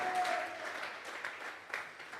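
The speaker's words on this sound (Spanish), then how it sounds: "Vamos a regalarle ofrenda de palmas al Dios de la gloria" A church congregation claps in offering during a Bible study service, a soft, somewhat distant patter of hands with uneven bursts.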